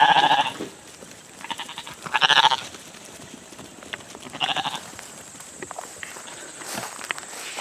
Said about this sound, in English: we breed registered Icelandic sheep